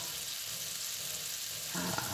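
Butter melting in a frying pan makes a faint, steady sizzle with soft crackling, a little louder toward the end, and no voices.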